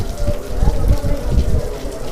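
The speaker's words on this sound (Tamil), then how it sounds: "மழை கொட்டு கொட்டுன்னு கொட்டிக்கிட்டே இருக்குது" Heavy rain pours outdoors at Courtallam in Tamil Nadu during the monsoon Saral festival, a dense, steady, close patter with no break.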